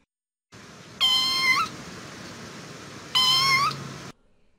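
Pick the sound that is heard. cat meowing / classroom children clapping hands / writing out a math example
cat meowing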